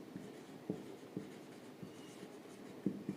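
Chalk or marker on a board during a physics lecture on dimensional analysis, heard as soft scratchy strokes and sharp taps spaced irregularly, fairly faint and close, with no talking.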